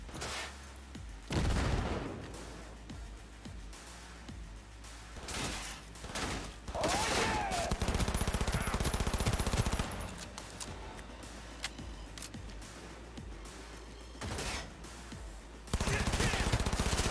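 Non-lethal gunfire in the PC game Cyberpunk 2077 comes in loud rapid bursts and volleys, with sustained automatic fire in the middle and another burst at the end.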